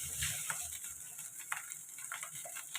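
Leftover rice, kept in the fridge, fries in a pan with a steady hiss, while a spatula stirs and scrapes in intermittent soft clinks close by.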